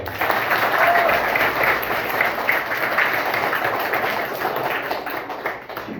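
Classroom audience at a village primary school clapping for two students, a steady broadband patter of hands lasting several seconds that tapers slightly at the end, with no talk over it.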